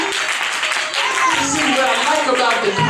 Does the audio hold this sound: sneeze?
no